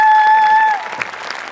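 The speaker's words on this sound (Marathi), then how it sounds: "जोरदार टाळ्या झाल्या पाहिजे" A studio audience at a Marathi comedy show bursts into dense, loud clapping, with a sustained musical tone over the start, then the applause thins into scattered claps.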